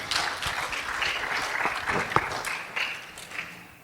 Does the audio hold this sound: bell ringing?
no